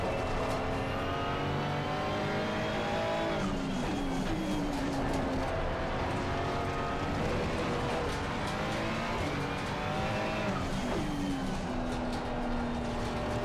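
Ferrari race car lapping the Nordschleife in a racing simulator game, loud continuous engine note rising and falling through gear shifts and revs, steady and close throughout with no talk.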